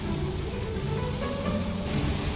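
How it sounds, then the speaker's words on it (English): Heavy rain pours down during a drive, a constant loud hiss of drops drumming on the car with a low road rumble underneath, unbroken throughout. "Quite a downpour."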